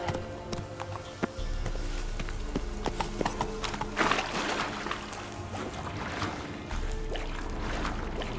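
A horse gallops in The Witcher 3 video game, with rapid rhythmic hoofbeats, steady and fairly close, over a low ambient background and a brief snort or whinny, with no talking.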